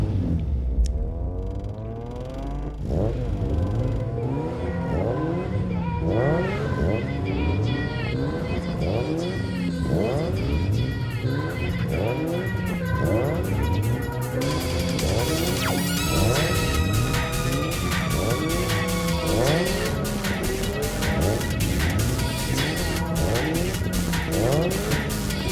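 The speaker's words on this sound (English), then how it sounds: "So this is my other hobby. This is autocross." A car runs an autocross course, its engine revving up and down through repeated turns while the tires squeal again and again. The sound is close and loud, with no talking.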